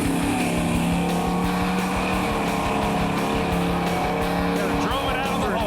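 Shade Tree Camaro making a drag racing pass, a loud sustained engine roar with steady harmonic drone throughout, tire noise mixed in, and voices talking underneath.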